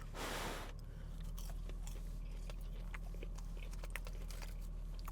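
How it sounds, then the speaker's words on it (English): Hot fast-food fries are bitten and chewed close up, with a brief soft burst at the start, then faint crunchy chewing clicks over a steady low background hum. "Let's taste the fry."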